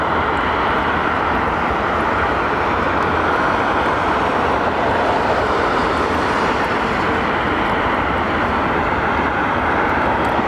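A loud, steady roar of an American Airlines jet at London Heathrow Airport holds close and constant with broadband engine noise throughout, no speech.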